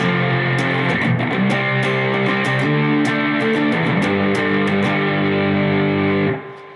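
A distorted electric guitar plays part 1 of the riff at full tempo, quick repeated power chord strums with rapid changes, loud and close with no voices, ringing briefly before stopping.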